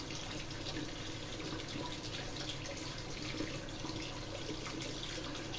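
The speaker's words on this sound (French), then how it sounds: "je rince le matériel au passage" Steady stream of tap water rinsing metal-plating equipment after aluminium treated with a drain cleaner, a constant close hiss and splash that runs unbroken and fairly quiet, with no voices.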